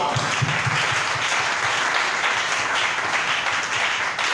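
A church congregation applauds together in a sustained, dense burst of clapping that fills the room at an even level throughout.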